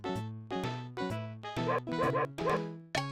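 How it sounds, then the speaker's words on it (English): A dog in the SimAnt video game barks repeatedly in a steady series of about eight sharp, synthetic-sounding woofs, loud and close, with no talking. "I hear a dog?"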